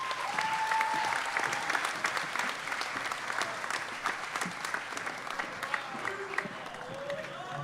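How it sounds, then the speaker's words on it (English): An audience at a school event applauds steadily for several seconds, a dense, even wash of many hands clapping that holds at a moderate level throughout. "Please give Leonor Fernandes and Diana Neves a round of applause."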